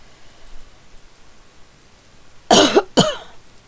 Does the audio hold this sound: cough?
yes